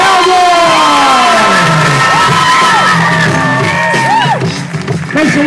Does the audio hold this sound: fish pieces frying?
no